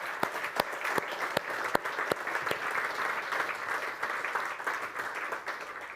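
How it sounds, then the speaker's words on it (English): Steady applause from a conference audience for the technical crew at the closing of a munition clearance week meeting, dense continuous clapping with a few sharper nearby claps standing out. "please big applause to Acoustic Art"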